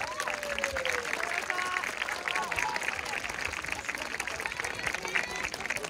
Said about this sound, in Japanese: 皆さんもう一度最高の拍手をお願いします。